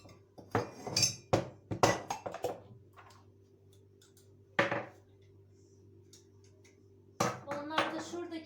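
Clattering dishes and cutlery clinking in bursts as they are loaded into a dishwasher, with quieter gaps and a low hum in the background.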